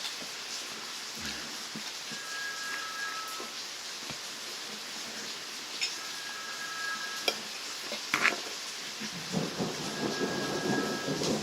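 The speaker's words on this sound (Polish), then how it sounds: "A burza, byłem na podwórku grzmiało." Rumbles of thunder from a thunderstorm roll faintly over a backyard beneath a steady hiss of rain, with a few scattered sharper cracks.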